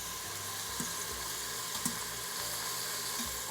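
Beef pieces browning in an Instant Pot on sauté for stew, a steady broadband sizzle with a few soft scrapes and clicks of a utensil, close and continuous with no talking.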